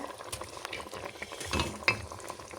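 A spoon stirs fish curry in a pan, giving soft scraping and faint sizzling with one sharper clink of metal near the end, quiet and close.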